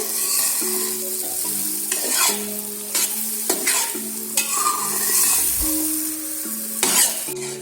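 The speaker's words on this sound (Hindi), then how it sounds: "अब हम इसमें थोड़ा सा और ऑयल ऐड करेंगे और इसको डार्क ब्राउन होने तक आप फ्राई करें" Semolina frying in oil in a pan for halwa, crackling and sizzling while a utensil stirs and scrapes against the metal in repeated strokes, with close, busy texture and no talk.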